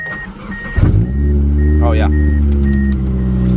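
A cold Mitsubishi Eclipse cranks and fires, then settles into a steady, loud idle with a close engine drone and a faint repeating beep, and a person speaks briefly as it starts.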